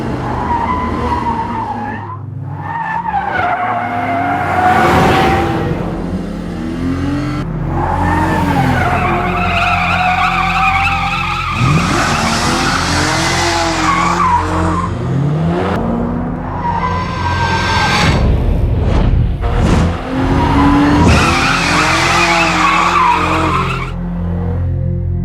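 Racing gameplay from Need for Speed with a BMW 1M Coupe, its twin-turbo N54 engine rated at 335 brake horsepower, tires squealing and skidding again and again over a loud, continuous engine roar, with no voices.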